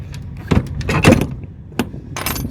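A trailer door being forced open produces a close, loud series of metallic clanks, scrapes and rattles with brief broadband bangs, clustered irregularly over a couple of seconds without speech.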